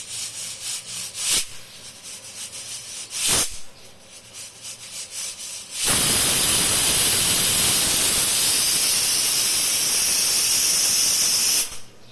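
Pressure cooker cooking dal on a gas flame lets out a loud sustained steam whistle and hiss lasting about six seconds, after a quieter stretch of background noise and a couple of short bursts.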